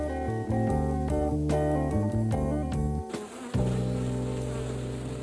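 Bees buzz close by in a steady, droning hum whose pitch shifts up and down in short steps, briefly dipping before the buzzing resumes strongly.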